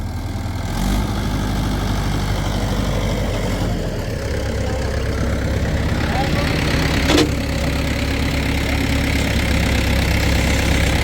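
A tractor engine runs close by in a sugarcane field, a continuous heavy low rumble that holds steady and rises slightly as it is revved, with voices talking over it.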